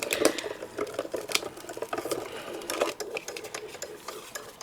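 A steady mechanical whirring and clicking of a hand-cranked embossing machine, with irregular grinding pulses and faint squeaks as an embossing folder is pressed through with noticeable resistance.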